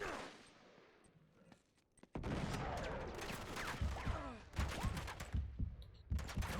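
Enemy gunfire in Uncharted 3: Drake's Deception, with rapid bursts of shots cracking and clattering after a quieter opening, coming in dense clusters with short pauses between volleys.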